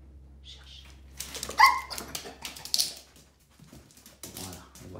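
A dog searches by scent, whimpering with high, thin whines and letting out a few short, close barks and yips in an uneven run.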